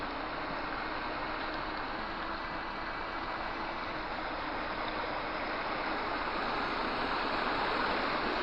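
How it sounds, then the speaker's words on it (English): A small stream beside an abandoned dam near Glamis, Scotland, rushes in a steady, close, full-bodied wash of flowing water with no one speaking. "It's a crazy little stream there."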